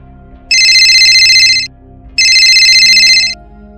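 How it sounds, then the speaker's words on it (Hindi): A telephone bell rings in two long, loud electronic bursts of rapid trilling with a pause between them, heard up close over a faint low hum and no talking. "दिल्ली पुलिस कंट्रोल रूम में फोन की घंटी बजी"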